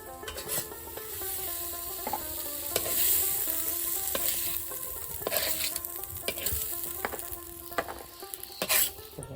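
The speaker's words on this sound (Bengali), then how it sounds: "তেলটা গরম হয়েছে যে পটল দিয়ে দিলাম" Pointed gourd frying in hot oil, a steady close sizzle with repeated clinks and scrapes of a spoon against the pan throughout, no voices.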